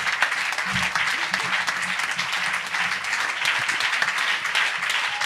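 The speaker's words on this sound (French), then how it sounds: "Vos applaudissements également pour Juliette Granier." An audience applauding steadily throughout, a dense, sustained wash of clapping.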